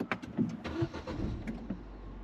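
A Ford Fiesta ST200's 1.6-litre four-cylinder engine cranks and catches, settling into a low idle rumble with a few clicks and mechanical noises nearby.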